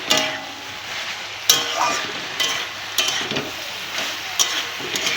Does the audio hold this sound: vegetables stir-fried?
yes